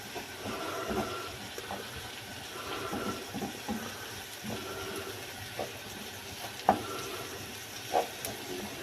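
Shallots sweat in a pan, ahead of an Armagnac flambé for smoked salmon spaghetti, with a soft steady sizzle, occasional stirring scrapes and a couple of brief clinks, close and moderately quiet.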